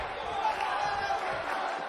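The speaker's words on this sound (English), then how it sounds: "Feel the energy from the crowd here in London" A wrestling crowd in London, England, roars steadily throughout, a dense continuous wash of cheering and shouting at moderate distance with no clear pauses.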